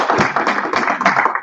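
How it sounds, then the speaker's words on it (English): Steady applause from a room of attendees at a town board meeting, a dense continuous patter of many hands clapping for about a second and a half before tapering off. "How about a round of applause?"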